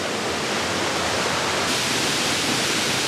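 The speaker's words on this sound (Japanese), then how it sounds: "すごいね。ここまで早い滝初めてかも。" A fast, powerful waterfall at a Yamagata hot-spring area roars as a loud, continuous broadband rush with no break and no voices.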